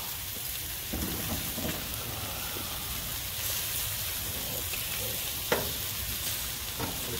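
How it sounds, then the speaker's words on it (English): Barbecue ribs sizzle on a backyard grill in a constant, close crackling hiss, broken by a few sharp pops and clicks. "Barbecue ribs right there."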